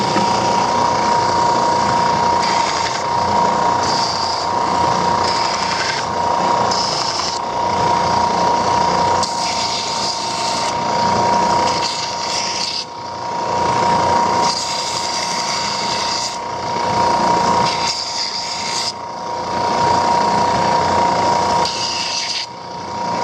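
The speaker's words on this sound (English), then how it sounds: "I look at this gap right here on the collar, sand it down a little bit first" Sanding the collar of a freshly band-sawed wooden canteen made of air-dried maple or pine, a loud continuous machine whir with rough abrasive scraping that rises and falls as the wood is pressed and shifted, with no talking.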